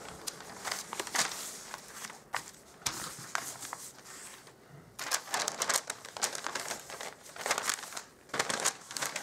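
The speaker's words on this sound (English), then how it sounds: "So I'll just grab my scissors and I'll just cut this down." Butcher paper crinkles and rustles as it is handled and cut with scissors, close and fairly quiet, in irregular bursts of crisp crackling with short pauses between.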